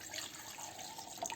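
Half a cup of water poured into a mixer jar for a quick breakfast batter, a short close splashing trickle of liquid with no talk.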